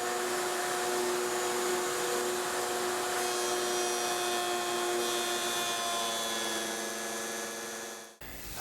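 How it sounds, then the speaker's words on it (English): A router table runs continuously while shaping a guitar neck, a steady high-pitched motor whine with tonal hum and cutting noise, then cuts off abruptly near the end. "I want to run this across the router table so the neck is at its final dimensions at the nut side and at the heel end."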